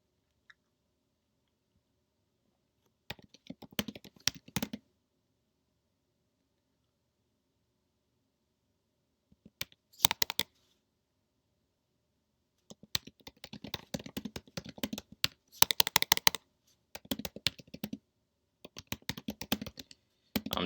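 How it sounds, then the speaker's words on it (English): Computer keyboard typing comes in separate bursts of rapid, close clicking, with long silent gaps between them and denser runs toward the end. "I'm just typing."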